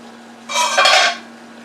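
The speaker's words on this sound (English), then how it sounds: "We're going to drop our habaneros in." Habanero peppers dropped into a pot of boiling water, one short splashy rattle lasting about half a second over a faint steady hum.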